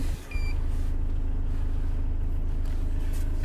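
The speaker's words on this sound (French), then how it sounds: "Voilà, le véhicule roule." A car, an Indcar Wing vehicle, pulls away with a steady, loud, close engine drone that continues evenly after a brief dip at the start.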